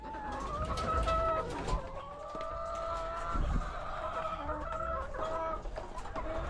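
Chickens from a first-batch backyard flock cluck and call steadily throughout, a busy chorus of hens close by with some louder squawks, with no talk.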